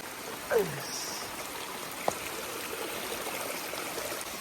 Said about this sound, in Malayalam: താഴെ തോട്ടിലേക്ക് പോകുന്ന വെള്ളമാണ്